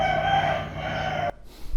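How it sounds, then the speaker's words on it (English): Rooster crowing, one long, loud, close cock-a-doodle-doo that holds steady and then cuts off abruptly, with no one speaking. "I bought some roosters."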